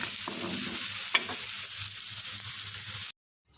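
Sliced pumpkin frying in a pan, sizzling steadily while a spatula scrapes and stirs it, with a couple of sharper clanks, until the sound cuts off abruptly near the end.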